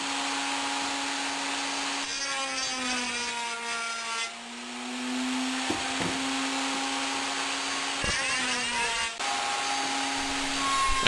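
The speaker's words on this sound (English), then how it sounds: "I then use a quarter round router bit to round the corners of the box nicely" A router fitted with a quarter round bit rounds the corners of a wooden box, a steady high motor whine punctuated by rasping cuts as the bit bites into the wood, heard close with short pauses between passes.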